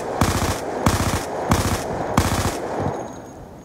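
MP7 submachine gun firing four loud, close bursts of rapid automatic shots, each burst separated by a short pause.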